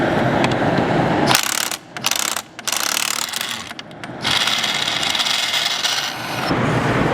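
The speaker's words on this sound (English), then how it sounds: "the snap-on quality is just too good for taking off these nuts" A Snap-on ratchet loosens wheel nuts on a snowmobile: loud, close, gritty rasping and ratcheting in long bursts, broken by a few brief pauses.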